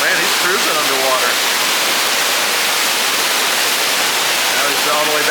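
A waterfall pours into a beaver aquarium tank, heard as loud steady broadband rushing with faint voices in the background.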